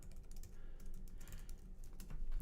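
Typing on a computer keyboard: quick, irregular key clicks close by at a low level, continuing throughout with no voices.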